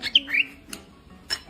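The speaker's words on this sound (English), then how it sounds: "36 seconds of my cockatiel being my doll." A pet cockatiel gives a few short, sharp squawks and chirps close by, with bursts near the start and again toward the end between quieter gaps.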